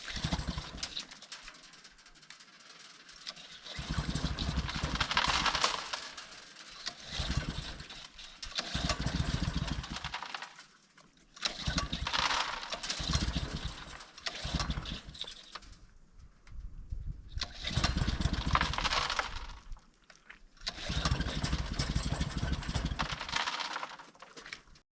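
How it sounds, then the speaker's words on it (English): A gold-mining trommel's small engine starting up and running outdoors, a loud rough idling rumble that surges in repeated bursts with brief drops between, with faint bird calls in the background. "I start the Trommel"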